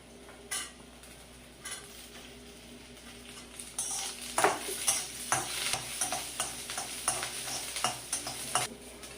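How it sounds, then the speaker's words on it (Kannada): Onion and garlic fry in a spoonful of oil for drumstick sambar, giving a steady close sizzle. Scraping spoon strokes join in and turn into a regular stirring rhythm through the second half. No one speaks. "ಸ್ವಲ್ಪ ಕೆಂಪಾಗೋವರೆಗೂ ಈರುಳ್ಳಿ ಹುರಿಬೇಕು ಹಾಕ್ತಿದ್ದೀನಿ ಬೆಳ್ಳುಳ್ಳಿ ಹಾಕ್ತಾ ಇದ್ದೀನಿ"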